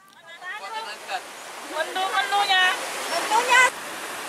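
Steady broadband rush of fast, clear water at Air Biru beach, a constant close hiss with someone speaking over it throughout.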